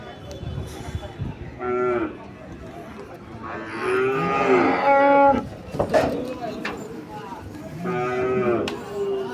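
Several cattle moo in loud, drawn-out calls, one after another, amid a busy crowd murmur and shuffling.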